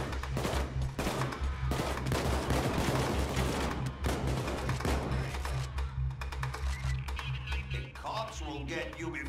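Rapid bursts of gunfire crackle through a heist firefight in Payday 2, dense automatic fire for several seconds that thins into scattered shots, with a low music drone and voices talking throughout.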